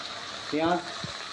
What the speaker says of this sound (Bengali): পেঁয়াজ তেলে এবার ভাজা হচ্ছে।